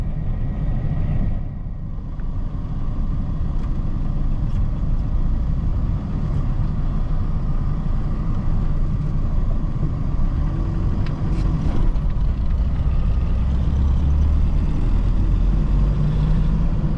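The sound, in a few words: Tata Xenon pickup truck driving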